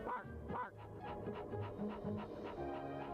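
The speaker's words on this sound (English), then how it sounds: "Robot dog." A robot dog toy or sound effect pants in quick rhythmic breaths, with soft whimpering tones under a steady layer of electronic hum and background music.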